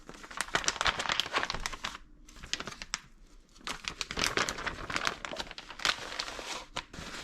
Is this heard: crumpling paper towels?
yes